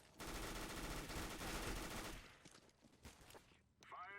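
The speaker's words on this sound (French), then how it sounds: "Je tire en l'air pour montrer que je suis un cowboy vénère." Rapid bursts of gunfire shot into the air in Counter-Strike: Global Offensive, a dense stream of loud shots for about two seconds, followed by scattered quieter game sounds.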